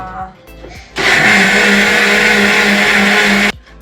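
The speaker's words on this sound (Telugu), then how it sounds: "సో ఇప్పుడైతే దోశపిండి మిక్సీ పట్టి పెట్టుకోవాలి మార్నింగ్కి" A kitchen mixer grinder churns soaked dosa batter, a loud steady whirring drone that starts abruptly and cuts off after about two and a half seconds, with faint clatter before it.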